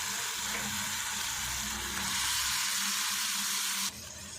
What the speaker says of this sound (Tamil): சிக்கன் பீஸை சேர்த்துட்டு நம்ம மிக்ஸ் பண்ணி விட்டுருவோம்